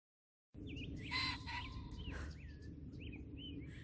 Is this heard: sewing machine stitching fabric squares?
no